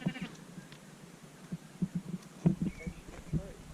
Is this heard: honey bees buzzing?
no